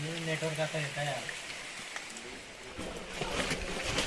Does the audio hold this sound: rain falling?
yes